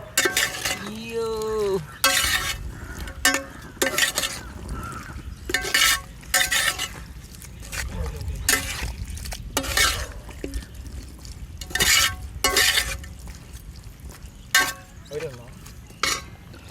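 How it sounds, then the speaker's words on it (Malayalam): Fried beef stirred in a hot pan for a Kerala-style beef fry roast with green peppercorns, with repeated loud scraping strokes over a steady sizzle, under intermittent talk. "ബീഫ് ഫ്രൈ ചെയ്ത ബീഫിനെ നമ്മൾ ഇടാൻ പോകട്ടോ"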